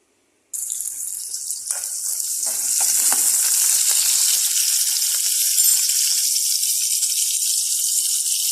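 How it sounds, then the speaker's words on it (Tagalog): Vegetables with garlic and onion sautéing in a pan for langka gata, a loud, steady sizzle starting abruptly and building into a constant bright hiss, with light stirring scrapes early on. "Gisa-gisain muna gulay, bawang sibuyas."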